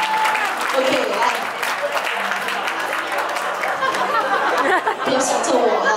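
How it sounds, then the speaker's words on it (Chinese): Wedding guests clap and applaud together at a reception, a steady dense patter mixed with loud crowd chatter and some laughter, close and continuous throughout. "掌声再来一次好不好？"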